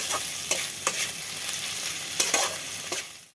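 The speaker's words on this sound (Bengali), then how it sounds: "এগুলোকে আরও একটু আমি ভালো করে আমি ভেজে নেব" Soya chunk manchurian mixed with tomato fries in a pan, a close, steady sizzle punctuated by repeated rhythmic stirring scrapes.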